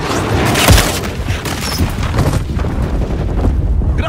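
A loud grenade blast booms near the start in Modern Warfare 3 gameplay, followed by rumbling battle noise and debris.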